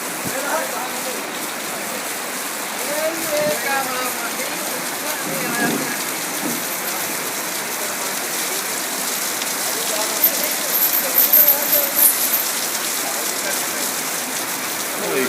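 Steady rain falling outdoors in Sri Lanka where elephants stand, a continuous hiss of drops on surfaces, with a few faint sounds passing through but no clear speech.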